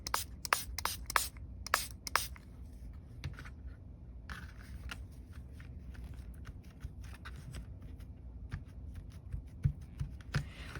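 A spray bottle mists water over watercolor marker on a junk journal page in a few quick, close hissing bursts, followed by quiet scattered taps and light rubbing.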